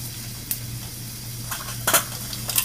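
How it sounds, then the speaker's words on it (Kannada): Mustard seeds spluttering in hot oil in a pan for dal, giving a low steady sizzle broken by a few sharp pops and crackles, close and moderately loud, with no talk. "ಸಾಸಿವೆ ಸಿಡಿದ ಮೇಲೆ ಜೀರಿಗೆ"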